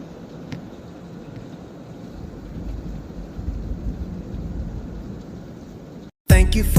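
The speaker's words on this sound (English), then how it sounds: "These are the evening storms." An August evening thunderstorm in a garden, steady rain and rumbling thunder filling the air with a continuous low roar, ending in a brief louder burst.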